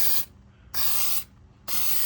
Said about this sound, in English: now what we got to do is we're just going to spray on some of this Eastwood weld through primer